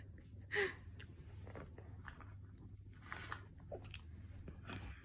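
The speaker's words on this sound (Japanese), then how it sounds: "一回お口の中全部もぐもぐしよう" A 1-year-4-month-old toddler chews a mouthful of strawberries and banana, producing soft, wet, irregular munching and small crunches close to the microphone, with a brief vocal squeak near the start.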